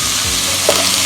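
Coconut pieces, ginger and garlic sizzle in hot coconut oil for an egg curry, a close, loud continuous frying hiss with a few small crackles and stirring bumps.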